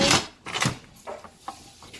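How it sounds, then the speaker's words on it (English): A few hard clattering knocks, then lighter clicks and taps as a metal pressure cooker lid is set down and fitted in place, close by. "Now, we're going to stick the lid on"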